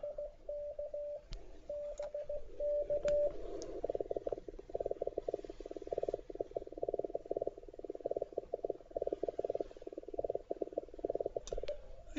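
Flex radio sending CW Morse code at high speed, around 45 words per minute with QSK, a steady rapid stream of keyed tone bursts heard continuously through the whole stretch, mid-level and alone without any voices.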